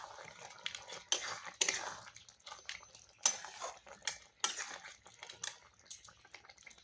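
Spoon scraping and clinking in a pan while crab curry is stirred with garam masala, irregular metallic knocks and scrapes, close and fairly quiet, with no talking.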